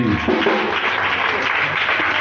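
A church congregation claps and cheers in acclamation of Jesus, a loud, close, continuous burst of applause with no speech over it.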